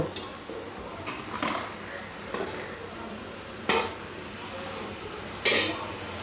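Boiled fish roe being lifted out of a pot: a few close metallic clanks and scrapes of a utensil against the vessel, two sharp knocks standing out, over low background noise.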